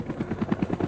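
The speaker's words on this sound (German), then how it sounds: "Es kam näher, wurde lauter. Ein Helikopter" A helicopter in an audio drama, bearing the emblem of the Sahelian army, heard as a steady rapid rotor chop thudding at a quick even rhythm, moderately loud and alone.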